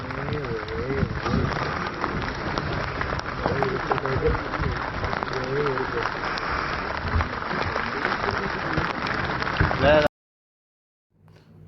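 Light rain falls in Jim Corbett National Park as a steady, dense patter that holds for about ten seconds and then stops abruptly into near silence.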